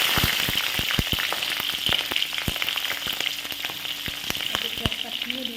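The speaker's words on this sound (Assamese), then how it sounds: "মোৰ তেলখিনি গৰম হৈ গৈছে, মই এতিয়া এই গোটা জিৰাখিনি দি দিম।" Whole cumin seeds crackle and sizzle in hot oil in a home kitchen, a steady close frying hiss studded with many sharp pops, no talk.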